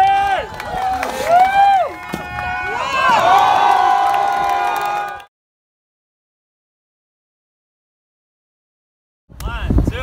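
On Venice Beach, a crowd cheers and shouts for the ladies for about five seconds, loud and close with lively voices. Silence follows, then a brief burst of sound returns at the end.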